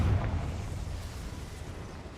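A Confringo fire spell in Hogwarts Legacy bursts in a short muffled boom, followed by a low rumbling decay over about two seconds, with no talk.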